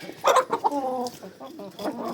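A chicken squawks loudly up close in a string of harsh, agitated cries, followed by a few shorter clucks.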